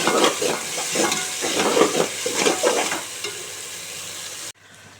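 Masala and tomatoes sautéing in a pan for mutton biryani, a close, lively sizzle broken by rhythmic scraping strokes of stirring, easing off before cutting out abruptly near the end, with no voices.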